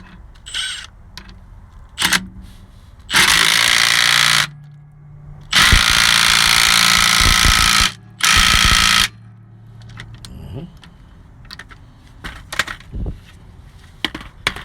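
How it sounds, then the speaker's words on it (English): Small Milwaukee impact gun driving bolts while fitting a rear driver-side truck air brake, three loud sustained buzzing bursts of a few seconds each, close up, with clanks and tool handling between them. "Yeah, I got the Milwaukee little gun out here. This does the job too."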